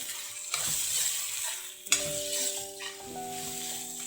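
Shallots sizzle and fry in hot oil in a pan while making a Kerala-style chicken curry, a steady close crackle with stirring scrapes and a sharp clatter partway through.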